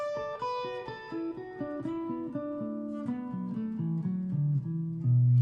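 A guitar plays a quick run of single plucked notes climbing through a pentatonic scale, each note ringing briefly before the next, steady and clear.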